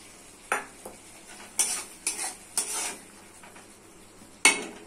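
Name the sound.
chopped tomato added to masala in pan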